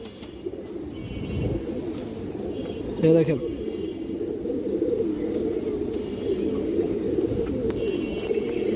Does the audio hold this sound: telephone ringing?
no